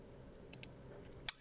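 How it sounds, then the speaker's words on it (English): A few sharp mouse clicks in quiet room tone while confirming an OK button in bridge-design software: two close clicks, a short pause, then one louder click. "So if you click OK here"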